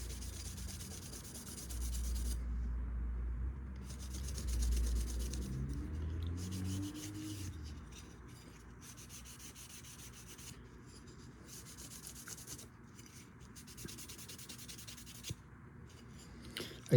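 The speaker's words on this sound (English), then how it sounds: "I'm going to hit it with a Scotch-Brite pad just to kind of smooth it out a little." A Scotch-Brite pad rubs across aluminum to smooth it, repeated close scrubbing strokes in short bursts with brief pauses, quiet and alone, with a low rumble early on.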